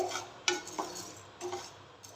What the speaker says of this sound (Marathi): व्यवस्थित दोन मिनटं ना भाजून घ्यायचं आपल्याला तव्यामध्ये